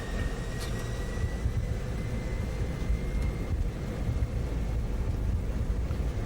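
Steady, loud broadband roar of a Swissair Airbus A310's engines at takeoff thrust, heard from the cockpit with a faint high tone fading early, continuous throughout with no talk.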